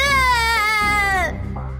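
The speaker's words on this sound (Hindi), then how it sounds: "पालने में रखते ही बच्ची जोर जोर से रोने लगी" An infant wails loudly and close by in a Hindi cartoon story, one sustained strained cry that breaks off into a shorter whimpering sob.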